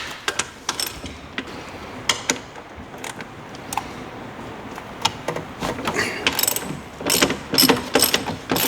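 Ratchet wrench loosens 13 mm bolts on a 2018 Sidewinder snowmobile, a series of close, sharp clicking bursts with short gaps, growing busier toward the end.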